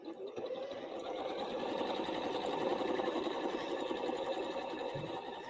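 A sewing machine quilts straight lines across a patch of a scrap fabric Valentine's place mat, a continuous even whir that runs steadily from start to finish at moderate closeness.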